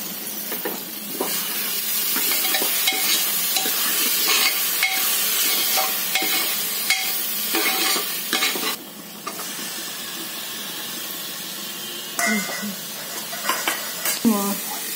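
Ginger garlic paste frying in a pan for a spicy trotter soup gives a steady close hiss and sizzle with stirring, which drops back and turns into scattered utensil clinks toward the end.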